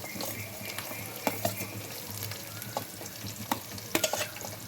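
Onions, green chillies and tempering spices frying in oil for an old-fashioned tomato gongura curry, a steady close sizzle with scattered sharp pops and crackles and occasional stirring scrapes, no voices.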